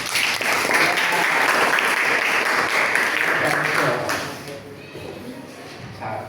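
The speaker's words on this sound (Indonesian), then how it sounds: "Tepuk tangan mana?" Students clapping in a classroom produce a dense burst of applause that holds strong for about four seconds, then thins and fades, with voices mixed in.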